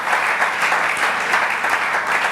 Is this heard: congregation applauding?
yes